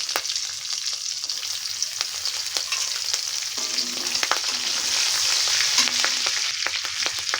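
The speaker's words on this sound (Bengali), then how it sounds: "এবার এই তেলের মধ্যেই আমরা দিয়ে দিলাম জিরে ফোড়ন, অল্প একটু জিরে, গোটা জিরে দিলাম।" Whole cumin, chopped cashews and green chili fry in hot oil for a vegetarian Bengali stuffed pointed-gourd dish, making a bright continuous close sizzle with occasional stirring clicks and no talking.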